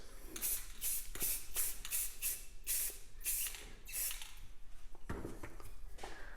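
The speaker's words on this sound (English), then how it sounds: "we need a fresh layer of black. Again, nice light mist." Black spray paint hisses from an aerosol can in a series of short, light misting bursts with brief pauses between them, close and fairly quiet.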